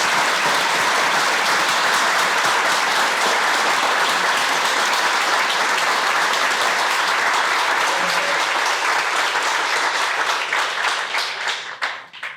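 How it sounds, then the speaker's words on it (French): A conference audience at Tech Week 2022 gives a speaker named Alice a long, loud round of clapping. The clapping is dense and sustained, then thins and fades near the end. "On va applaudir très très fort Alice."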